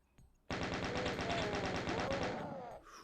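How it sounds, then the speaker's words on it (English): Chaingunner enemies fire chain guns in the PC shooter Doom II, a loud rapid burst of evenly spaced shots lasting about two seconds before stopping abruptly. "fucking chain gunners are on this goddamn level."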